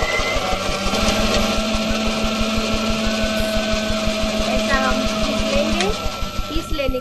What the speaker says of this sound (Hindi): अभी हम मिक्सर में पीसने जा रहे हैं